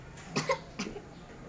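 Two short coughs brought on by smoke from burning, close and fairly sharp, the first a quick double burst, the second a single softer one, then quiet.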